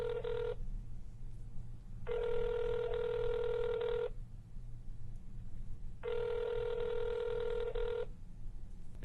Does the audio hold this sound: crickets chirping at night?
no